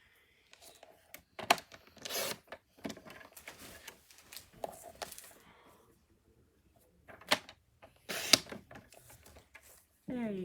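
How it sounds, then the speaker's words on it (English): White cardstock being cut down to a 2 by 2 square, producing several crisp, sharp slicing clicks in a quiet room, with soft talking and handling noises between the cuts. "Just gonna cut it down to 2 by 2."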